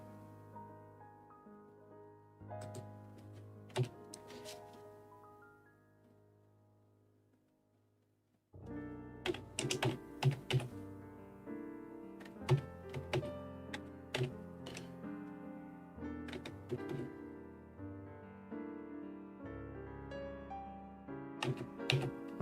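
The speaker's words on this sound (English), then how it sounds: "I was wondering if you can catch my keyboard clacking." Computer keyboard clacking during game development work, picked up by a desk microphone as irregular clicky keystrokes layered over steady tonal background music.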